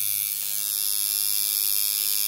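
A tattoo machine fitted with a faulty needle is switched on and runs with a steady, close electric buzzing hum that starts abruptly and continues evenly, with no talking.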